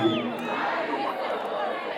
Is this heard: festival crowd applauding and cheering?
yes